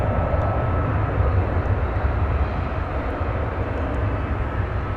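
An American Airlines Boeing 737-800 jet roars past at a busy airport at night, a broad steady engine rumble and hiss that holds without a break.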